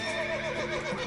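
Roach, a horse in The Witcher 3, gives a loud, close neigh that wavers up and down through a brief whinny lasting about a second, with no talk over it.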